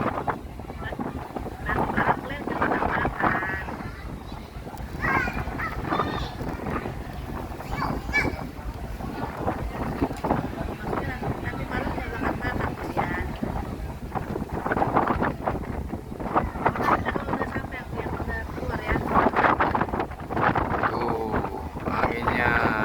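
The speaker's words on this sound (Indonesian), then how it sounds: "Anginnya agak kencang sedikit ya, mudah-mudahan tidak ada masalah." Strong wind buffets the microphone on a ferry crossing to Merak, Banten, a continuous loud rumbling gusty roar with the boat's drone beneath, while someone talks throughout.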